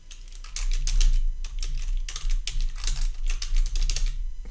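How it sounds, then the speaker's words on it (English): Rapid keystrokes on a computer keyboard, a steady run of close, crisp clicks in bursts with short pauses, no one speaking. "And I'm just going to type in"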